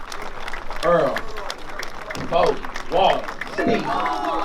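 A crowd claps and cheers at an honorary street-naming ceremony for E-40 in Vallejo, with loud voices and shouts rising above the applause in bursts throughout.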